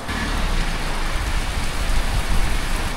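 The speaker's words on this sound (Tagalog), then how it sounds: "Lakas ng ulan guys." Heavy rain pours down at Valley Point campsite in Baguio, a loud, dense, unbroken roar of drops hitting surfaces close by, with no voices.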